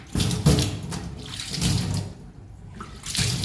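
Water runs steadily from a tap during cleaning of the tap, a continuous splashing flow with slight surges and dips in level, close by and without voices.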